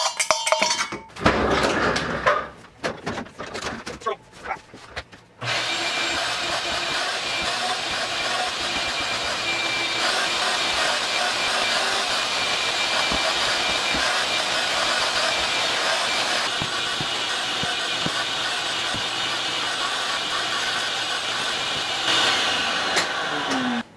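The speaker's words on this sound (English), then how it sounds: "Vacuum the floor, vacuum the surfaces" A vacuum cleaner cleaning the floor and surfaces in a drum workshop: after a few seconds of clattering handling, the motor starts and drones loudly and steadily, close by, with slight changes as the nozzle moves.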